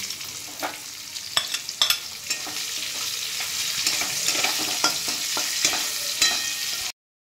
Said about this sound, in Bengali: আমি কতগুলো কুচিয়ে রাখা পেঁয়াজ দিয়ে দিচ্ছি।